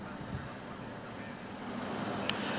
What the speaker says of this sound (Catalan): des d'aquí la sensació del vent és bastant elevada